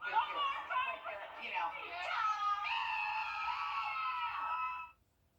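A woman screams a man's name at full voice in a husband-calling contest, one long sustained high-pitched call that rises and holds for about five seconds before cutting off, with crowd chatter faintly beneath.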